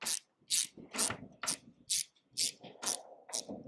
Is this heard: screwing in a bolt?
yes